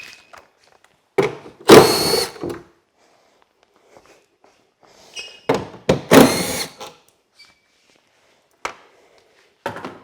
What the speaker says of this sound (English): So the next thing we're going to do is remove this innermost bolt